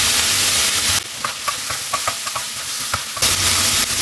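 Chicken pieces roasting on a tawa over a high flame give a steady, loud broadband hiss and sizzle, broken in the middle by a quieter stretch of scattered clicks and taps from stirring, before the strong sizzle returns.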